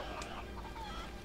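A Cucco chicken from the video game Hyrule Warriors gives a brief, faint burst of clucking and squawking over in-game background noise.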